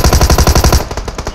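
Rapid automatic gunfire in the battle game PUBG, a loud, steady burst of evenly spaced shots with echo that trails into fainter, sparser reports, no voices.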